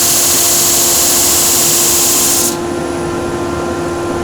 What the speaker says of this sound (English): what we're looking to do is sand this face and just reveal that brass tube in underneath